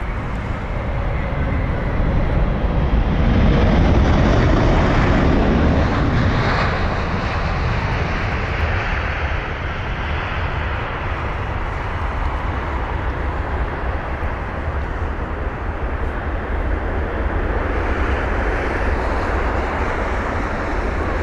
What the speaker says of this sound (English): that was 2 A380 landings, one after the other, the same time here at London Heathrow